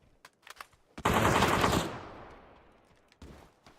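Burst of sustained automatic gunfire in a World of Tanks or PUBG match, loud and dense for about a second before trailing off into echo, with scattered shots before and a few more after.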